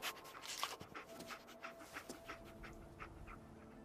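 Dogmeat, the dog in Fallout 4, pants quickly and rhythmically close up, a steady run of short breathy huffs at low volume.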